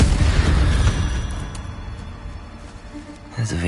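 An Incendio fire spell blasts in Hogwarts Legacy combat, a booming burst with a deep rumble that trails off over a few seconds, close and loud, with a brief thump near the end.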